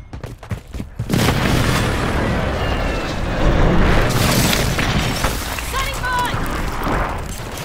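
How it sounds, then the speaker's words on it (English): Heavy explosions from a precision airstrike in Modern Warfare 3 team deathmatch, a sustained loud rumbling barrage of booms and blasts after brief quieter gunfire, with crackling debris and faint radio voices over the din. "Friendly precision airstrike inbound."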